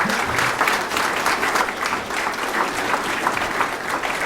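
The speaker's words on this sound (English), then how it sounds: "So give her a round of applause." An audience at a talk on Tom Weir claps in sustained, dense applause that holds evenly at full strength throughout.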